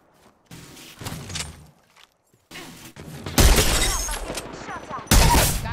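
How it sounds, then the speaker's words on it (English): Gunfire in a squad-based shooter video game: quiet bursts at first, then loud, dense volleys of shots and impacts that build and cut off abruptly near the end. "Opening fire on our prey."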